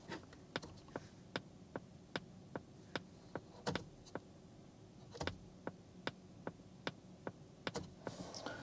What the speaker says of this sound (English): It's a clicking sound that comes out of the speaker.